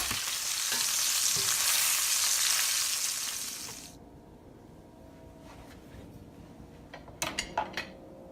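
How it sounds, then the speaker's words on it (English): Catfish frying in a pan: a loud, dense sizzle fills the first half, then drops away as the fish is flipped, leaving a low simmer broken by a few sharp clinks of a utensil against the pan. "so now that's cooked about 3 minutes. We're going to go ahead and flip that."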